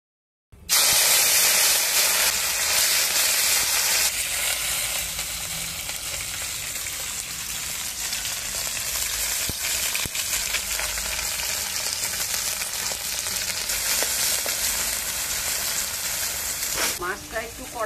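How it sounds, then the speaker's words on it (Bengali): Kaji fish frying crisp in hot oil in a kadai over a stove, for a fish and onion-stalk recipe: a loud, close, steady sizzle that holds unbroken for about seventeen seconds with no talk over it. "মাছটা একটু কড়া করে ভাজা নিই।"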